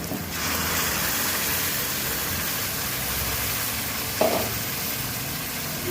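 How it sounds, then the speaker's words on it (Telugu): Onion paste and tomato paste frying in oil for paneer butter masala, a steady dense sizzle close up throughout with one brief stirring scrape partway through, no voices. "మంచిగా ఈ పచ్చివాసన అంతా పోయాక ఈ ఉల్లిగడ్డ పేస్టు టమాటా పేస్టు మొత్తం ఆయిల్లో ఉడకాలండి"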